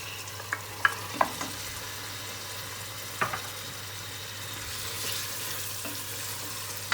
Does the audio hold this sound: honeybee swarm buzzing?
no